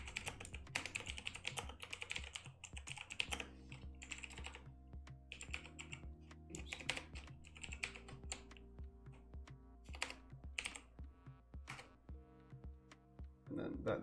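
Fast, irregular clicking of computer keyboard keys as a file name is entered, a long run of close, crisp taps with brief pauses, alongside a faint steady tone.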